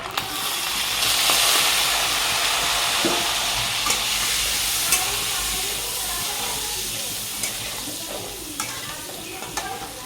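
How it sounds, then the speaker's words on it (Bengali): Egg curry cooking in a kadai wok, giving a continuous close sizzle and hiss with occasional stirring clinks and scrapes, steady throughout with no clear talk. "এখানে কড়া বসিয়েছি, এখানে আমি করবো এখন ডিমের ঝাল"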